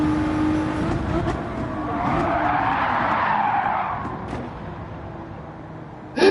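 Race car tires in Gran Turismo 7 skid and squeal under braking into a corner, a loud smeared screech over steady engine noise that swells mid-way, then fades before a sharp burst at the end; no speech.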